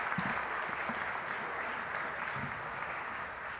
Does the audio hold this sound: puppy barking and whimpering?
no